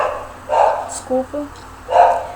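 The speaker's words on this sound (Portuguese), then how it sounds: "cachorros latindo, né?" A few sharp dog barks and yips ring out in short bursts, mixed with brief whimpering tones, fairly close.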